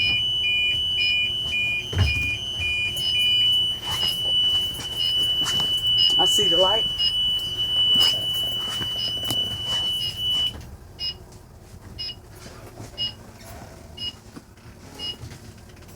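A truck's low-air warning buzzer sounds as a steady high tone during a CDL air brake test, holding for about ten seconds before cutting off, with someone talking over it in the cab.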